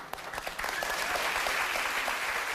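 A studio audience at a live morning talk show applauds steadily, a dense sustained wash of clapping at even loudness throughout.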